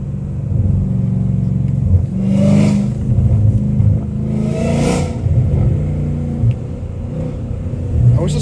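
A Dodge Hellcat Redeye with a catless exhaust rumbles loudly at night, heard from inside the car, with a deep steady engine drone and two sharp revving surges, no talking.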